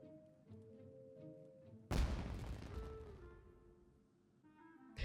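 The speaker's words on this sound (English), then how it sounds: "It sounded like fireworks." A loud firework explosion booms suddenly in a Genshin Impact game scene and fades over a couple of seconds, following a quieter stretch of tonal game sounds, with no talk.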